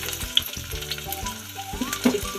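Onions frying in hot oil in a home kitchen, a close, continuous sizzle with crackles and light stirring, plus some low clunks from the pan, and no voices.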